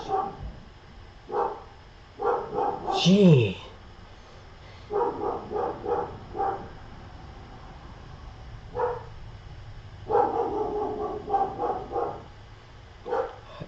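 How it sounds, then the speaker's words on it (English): A dog barks in short bursts of several yips and woofs at moderate distance, with pauses between volleys and one higher whining yelp, while a person briefly speaks. "Sorry about the dog barking."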